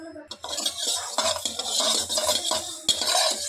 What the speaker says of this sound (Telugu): వేసుకొని ఫ్రై చేసుకోవాలి. కలర్ మారేదాకా ఫ్రై చేసుకోవాలి.